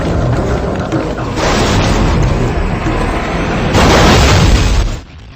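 A loud, sustained explosion with a car involved, a dense roaring rumble that swells and holds for several seconds before cutting off abruptly, heavy low end throughout.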